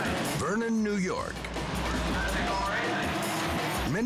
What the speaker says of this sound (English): Many sprint cars race around the track.